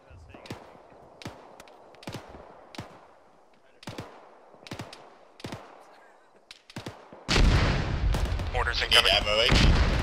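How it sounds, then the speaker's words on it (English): Incoming mortar fire in the Arma military game, with a string of sharp, evenly spaced distant thuds followed by a loud rumbling blast of explosions near the end. "Mortars incoming."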